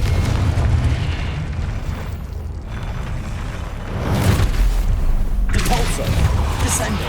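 In the Hogwarts Legacy video game, the Confringo spell sets off loud, close booming blasts that roll over a rumbling battle backdrop, with several explosive bursts in quick succession.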